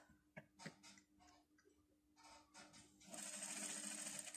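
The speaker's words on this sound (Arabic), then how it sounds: "وغادا نخيط" Sewing machine stitching a hidden pocket on a djellaba, beginning with a few soft ticking hand-wheel clicks and handling sounds, then settling into a steady close whirring run of stitches.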